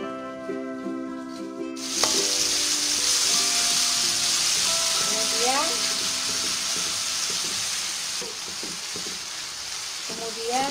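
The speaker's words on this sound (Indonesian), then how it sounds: "Kemudian kita tumis ya bumbu yang sudah kita ulek" Ground spice paste sizzling and frying in a hot pan for a dish of fried anchovies and eggplant, a steady loud hiss starting after a quiet opening with a voice, with occasional stirring clinks and someone talking faintly underneath.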